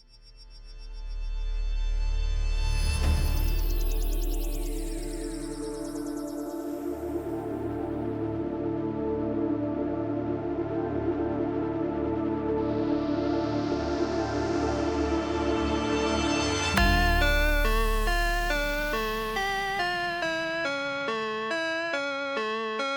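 An AI-made instrumental song intro generated with Udio, with sweeping synth tones and sonar-like effects building to a loud sustained chord, then a bright melodic sequence taking over.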